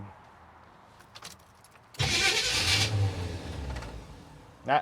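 A carbureted engine in a 1983 Chevy van that has sat unused for a long time cranks and fires, then roars into loud close revving for a few seconds before easing off, with a brief surge at the end.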